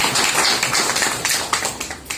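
A seminar audience applauds Dhanraj sir in a steady burst of many hands clapping, loud and dense, filling the short moment without pause.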